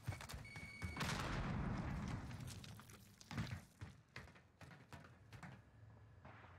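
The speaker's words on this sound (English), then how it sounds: "Throwing frag." A frag grenade goes off in the Call of Duty Warzone video game, a heavy boom and rumble about a second in that fades over a couple of seconds, followed by scattered muffled thuds and shots further off.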